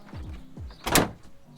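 Pickup truck tailgate fitted with a DeeZee tailgate assist, a few soft clicks and creaks followed by one fairly loud, sharp thud as it shuts, close by.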